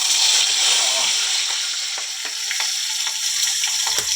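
Fish sizzles and crackles steadily as it fries in hot oil, a loud, dense hiss with small pops throughout.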